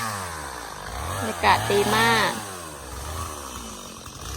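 A chainsaw cutting wood drones steadily in the background, revving up briefly, while someone talks over it.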